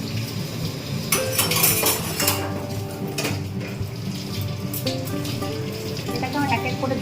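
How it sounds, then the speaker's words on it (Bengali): Balls of chhana dough for gulab jamun sizzle as they are dropped one by one into hot oil, a steady crackling fry with utensil clinks and scrapes. "এটাকে এক এক করে দিয়ে দেবো গরম তেলে"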